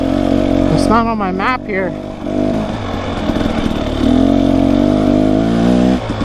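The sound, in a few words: trail motorbike engine running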